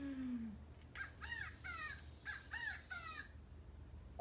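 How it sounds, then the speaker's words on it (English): A recorded quail call plays as a short series of about five clear, repeated chirping notes in quick succession, following one lower drawn-out note at the start. "That's the sound of a quail."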